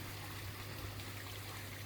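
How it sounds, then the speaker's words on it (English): Fresh water from a hose pipe trickles into a koi pond, a faint, steady, even splashing that carries on without a break. "as soon as you put a hose pipe of fresh water going in"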